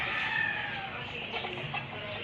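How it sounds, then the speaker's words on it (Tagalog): Chickens cluck faintly in a short stretch of outdoor ambience in a vacant lot, soft and somewhat distant. "parang probinsya, maraming manok"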